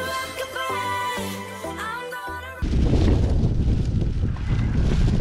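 Music plays for a few seconds, then strong wind buffets the microphone with a loud, broadband roar that continues to the end.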